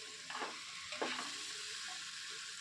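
Rice being stirred in hot ghee in a pressure cooker for vegetable biryani, with a steady close sizzle and a couple of brief scraping stirs near the start.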